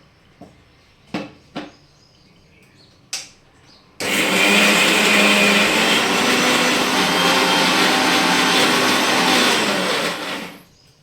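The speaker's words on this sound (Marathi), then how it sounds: "आता हे आपण मिक्सरला काढून घेऊयात" A few sharp knocks, then a mixer grinder starts up and whirs loudly and steadily for several seconds grinding fenugreek leaves and garlic before stopping.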